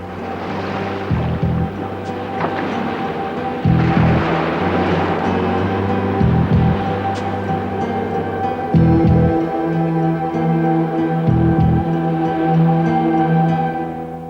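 Heavy rushing water and surging waves of a stormy sea fill the scene, loud and constant, with low rhythmic thuds breaking through at intervals.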